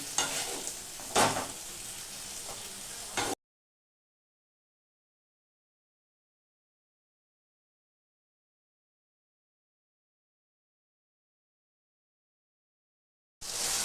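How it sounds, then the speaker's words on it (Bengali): Mutton keema is stirred and fried in a pan over low gas, a dhaba-style dish of minced mutton being cooked down in its own juices. A few seconds of scraping and sizzling give way to a long silence, then return briefly at the end. "এখন আমাকে খুব ভালো করে নাড়তে হবে, গ্যাস কমিয়ে নাড়বো।"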